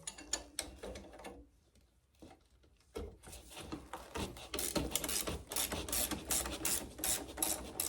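A ratchet works loose seat bolts with rapid clicking strokes in irregular bursts, close by, a short quiet pause before the clicking picks up again.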